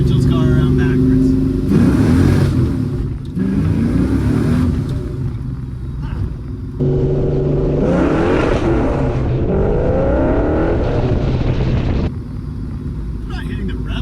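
A 1965 Plymouth Barracuda with a 360 engine and five-speed revs hard through repeated loud climbing pulls with gear shifts and drops between them, close to the listener, while someone talks over parts of it.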